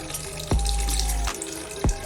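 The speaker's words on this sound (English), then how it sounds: "So you just add that water from the meat to it to be cooked." Meat stock water is poured into a pot of Nigerian egusi soup, a loud watery splash with a deep low hum that starts and stops abruptly, and no talk.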